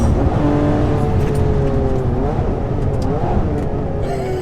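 A Ferrari 599 GTB's V12 engine roars loudly and continuously, its pitch gliding down and up as it revs through downshifts, heard close with no talking.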